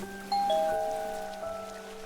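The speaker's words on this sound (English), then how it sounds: "I reached my drop-off door and rang the bell." A doorbell at a front door rings with a clear two-tone chime that lingers and fades over a quiet background.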